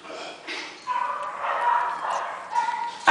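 A female Pomeranian, a stray at a shelter, gives short yips and soft whimpers close by, with breathy vocal sounds in between and a sharp noise at the very end.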